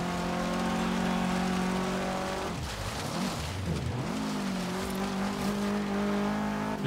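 Subaru car engine in the Forza Horizon 3 racing game, a steady loud drone whose pitch dips and rises mid-clip as it shifts and revs, then settles back to a constant hum with faint tire noise.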